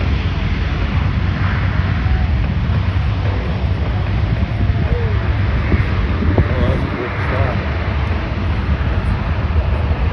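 Loud, steady C-130 propeller engine drone with heavy wind rush, the pitch shifting slightly partway through as the propellers go into reverse thrust after touchdown at an airshow.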